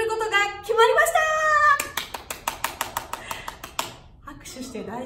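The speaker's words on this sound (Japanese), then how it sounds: "拍手して大丈夫でしょうか" A short burst of clapping at an announcement, about a dozen quick claps after a voice speaking, then talk resumes.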